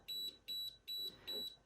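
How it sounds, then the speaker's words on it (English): Four short, evenly spaced electronic beeps, high-pitched and clear, from the small buzzer of a 4WD battery voltmeter. "it actually has a buzzer in it"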